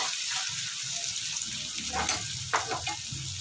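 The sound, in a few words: garlic ginger paste frying in a pan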